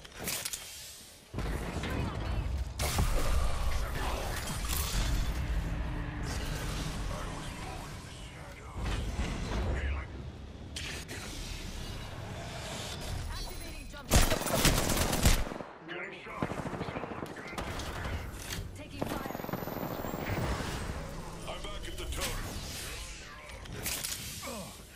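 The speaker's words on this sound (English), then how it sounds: "Taking fire, brothers." Incoming gunfire in a shooter game, with bursts of rapid machine-gun fire and single sharp shots coming in loud, uneven waves over about twenty-five seconds, broken by short pauses and one especially heavy volley.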